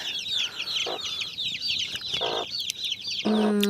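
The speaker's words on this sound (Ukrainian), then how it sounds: "Тут у нас квочка чубатуня." Cochin and crested hens cluck and chatter continuously nearby, with rapid repeated calls overlapping in a farmyard run, closing on a louder sustained call.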